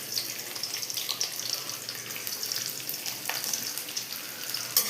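Garlic fries in a little oil for egg rice, giving a steady, close crackling sizzle that stays even throughout.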